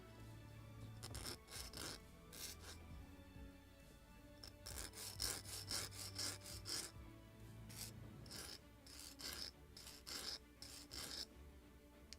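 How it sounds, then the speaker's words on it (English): A sanding block rasps against a wooden part of a model lobster smack boat kit, giving repeated short back-and-forth scrubbing strokes in irregular bursts, close and fairly quiet. "I just will use sanding block to make it shorter."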